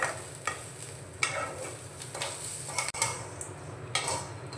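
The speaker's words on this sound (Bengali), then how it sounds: "এইভাবে নাড়াচাড়া করে ছোলার ডালটাকে আমি একেবারে ঝরঝরে করে ভেজে নিয়েছি" Chana dal with curry leaves frying in oil, stirred steadily with a utensil, giving a continuous close sizzle broken by several short scraping strokes against the pan; no one speaks.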